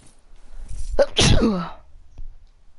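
A single loud, close sneeze bursts out in the middle of a Fortnite gaming stream, with a brief inhale leading into a sharp explosive release and then quiet.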